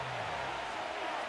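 A stadium crowd roars in Madden NFL 25 ahead of a third down, a steady broadband wash of cheering that stays constant through a very short stretch.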